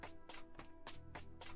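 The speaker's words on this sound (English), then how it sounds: "he heard some energetic footsteps coming up from behind him" Footsteps approach from behind in a visual novel scene, a quick series of light, energetic taps heard alone at low level.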